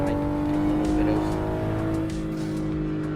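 BMW G20 driven in the Assetto Corsa racing game on the Shutoko Revival Project No Hesi server, a steady loud engine drone with tonal harmonics and faint tire noise throughout, no speech.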